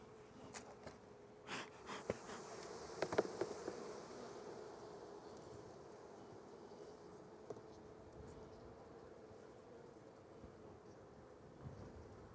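A steady, low hum of many honey bees buzzing in a hive fills the space, with a few louder close passes and soft knocks near the start.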